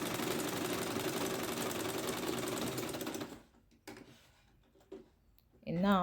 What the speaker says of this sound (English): I'll sew down from one end to the other.